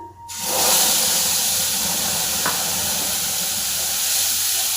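Spice paste hits hot oil with black cumin while kajoli fish curry is cooked, bursting into a loud sizzle that settles into a steady, close hiss for several seconds with no talking.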